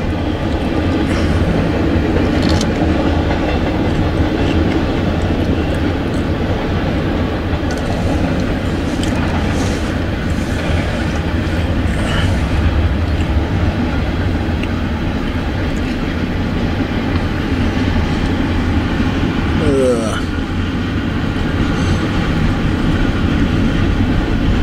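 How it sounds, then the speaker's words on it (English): A CSX freight train rolls past on the Berkshire Subdivision in winter, a loud, steady rumble of wheels and cars that runs on unbroken with faint clicking and no voices. "That was a short train."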